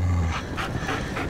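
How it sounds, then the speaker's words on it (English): A dog pants in a steady, rhythmic series of quick breaths, close and fairly loud over a low background rumble during a TV episode. "That's a dog."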